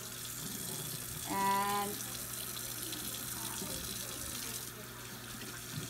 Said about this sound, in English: So I'm going to now wash my hands very quickly